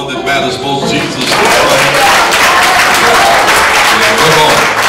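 A church congregation breaks into loud, sustained applause, dense clapping filling the room over a background of music and voices.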